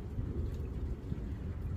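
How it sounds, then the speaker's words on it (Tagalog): Steady rain hisses and rumbles continuously, a dense low wash of drops with no voices, fairly close and even throughout. "Umuulan."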